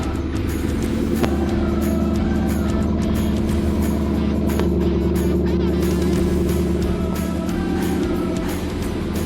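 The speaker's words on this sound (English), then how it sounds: "So yeah, time for a cold start." A Porsche Cayenne S V8, idling after a cold start, holds a loud, steady low rumble with a constant droning tone. A couple of brief knocks stand out over the running engine.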